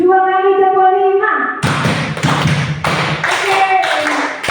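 Two rounds of a rhythmic five-clap pattern from a group of people, a loud burst of claps following a spoken prompt, with talk continuing faintly underneath.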